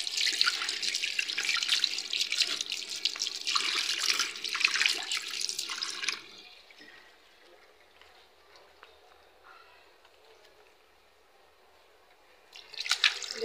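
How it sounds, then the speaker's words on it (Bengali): Tap water runs strongly into a sink while a potted plant is washed under it, a steady splashing stream for about six seconds that drops to quiet trickling and drips, then resumes at the end. "গাছটাকেও ধুয়ে নিব।"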